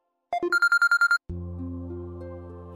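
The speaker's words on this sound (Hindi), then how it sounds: "फोन आता।" A phone ringtone chimes in a quick run of about seven bright, even electronic tones, then a sustained held chord follows, loud and close with no talking.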